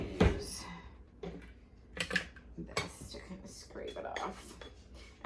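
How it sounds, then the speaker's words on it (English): Thick almond biscotti cookie batter is scraped off a utensil against a bowl, producing a few close, uneven clinks and scraping strokes with short pauses between them. "I'm just going to use this to kind of scrape it off"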